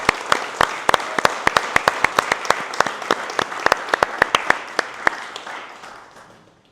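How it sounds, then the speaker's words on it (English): An audience applauds a speaker at an evening event at the Black Panther Party Museum. Sustained clapping with many sharp individual claps stands out before fading away at the end. "Another round of applause for Farima Pokorshi."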